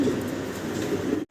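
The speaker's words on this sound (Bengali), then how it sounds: "হাতে রাখছো একটা কবুতর" Pigeons held at a pigeon seller's stall, heard as a steady low cooing murmur with a busy background hum throughout, ending abruptly.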